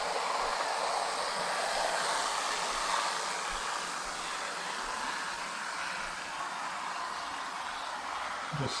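Steady hiss of T gauge model trains running on track, a continuous broadband whirring with no pauses, close and fairly loud throughout.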